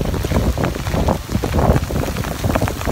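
Heavy rain pours during tawaf at Masjidil Haram, a dense, close hiss of drops hitting surfaces and people with gusts of wind buffeting the microphone, no voices present.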